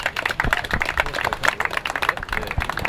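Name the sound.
applause for Bruce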